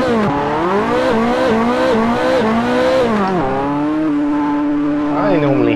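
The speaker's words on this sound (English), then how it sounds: "I normally have luck drifting these in third person" Ferrari 288 GTO or F40 drifting in a racing video game, its engine note rising and falling in steady harmonic sweeps while tires squeal through the slide, loud and continuous for several seconds.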